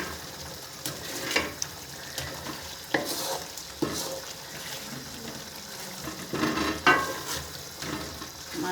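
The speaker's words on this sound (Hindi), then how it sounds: "पाउडर मसाले को अच्छी तरह मिक्स कर लेते हैं।" Powdered spices being stirred into softened potatoes and chicken in a large pot for degi palak gosht, a spoon scraping and knocking in uneven strokes over a gentle sizzle, close and moderately loud, with no talking.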